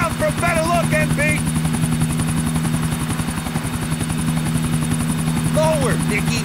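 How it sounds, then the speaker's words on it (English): A helicopter in Grand Theft Auto IV thuds with a steady rotor chop and a droning hum that runs the whole time. Voices talk over it. "Take the chopper lower, man. Take this thing down a little bit, homie."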